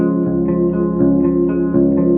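An electric guitar plays through a pawn shop amp with reverb, a loud sustained chord with a swelling, slightly pulsing wash of echo.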